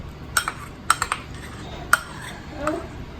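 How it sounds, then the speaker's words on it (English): A spoon stirs sour cream biscuit dough in a bowl, giving a few sharp clinks and scrapes against the bowl at irregular intervals, close and fairly loud with quiet gaps between. "So you just stir this together to make a dough."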